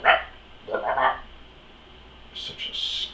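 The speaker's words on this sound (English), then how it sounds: "Such a scaredy dog." A dog gives a couple of short barks near the start, followed by higher yelping or squeaky calls later, moderately close and interspersed with quiet gaps.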